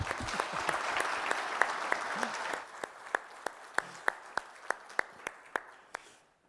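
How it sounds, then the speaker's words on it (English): Audience applause at a cybersecurity conference day, a full crowd clapping at first, then thinning quickly to a few lone, evenly spaced claps that fade out. "No, you can applaud them."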